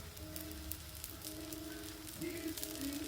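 Msemen-style brick pastry fries in a pan, a faint, steady sizzling hiss with light crackles, low and close, while a few tonal background sounds hum underneath and no one talks.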